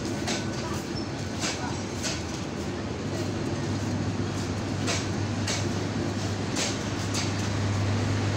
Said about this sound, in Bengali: দেশের একটি ঐতিহ্যবাহী ট্রেন